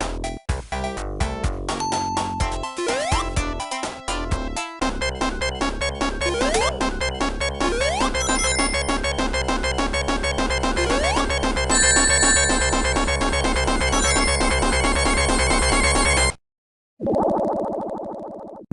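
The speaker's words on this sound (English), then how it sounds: "The tune of Sonic drowning might as well be the official soundtrack of drowning." Sonic the Hedgehog drowning countdown music from a video game, a loud, fast, frantic chiptune melody that speeds up with insistent repeating notes, then cuts off abruptly near the end.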